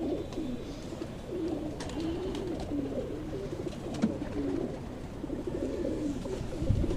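Pigeons in a large breeding loft coo softly and repeatedly, low throaty calls continuing steadily over a faint background hum, with no speech.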